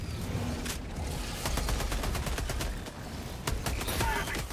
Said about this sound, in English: I'm calling in sentry. Requesting sentry.